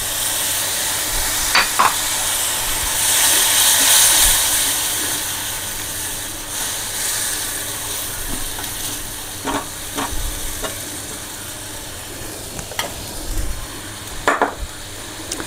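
Water poured into a hot pan for a potato, pointed gourd and prawn vegetable dish, a loud burst of sizzling and steaming hiss that settles into steady frying with sporadic stirring clacks.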